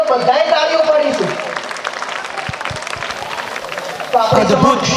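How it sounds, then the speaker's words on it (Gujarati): An audience at a primary school's Republic Day cultural program applauds: a broad, steady rattle of many hands clapping in the middle, with voices and sung or spoken sound louder at the start and end. "બધાએ તાળીઓ પાડીશું"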